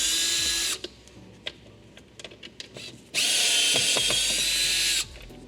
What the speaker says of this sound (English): go ahead and take these two T25 screws out of the airbox.